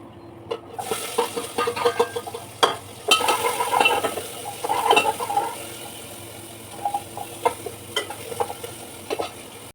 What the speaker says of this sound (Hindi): तो फटाफट से तड़का लगाते हैं।